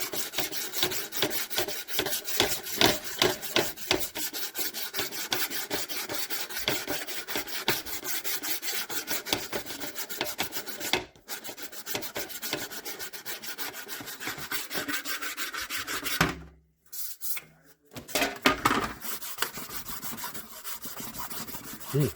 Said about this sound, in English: Here's a bit of sandpaper on it.